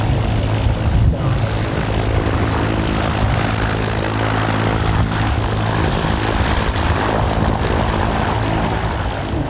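Propeller airplanes at an air show in Brittany marking 50 years of the Ailes Armoricaines, a loud continuous engine roar with droning propeller buzz, steady and close with no break.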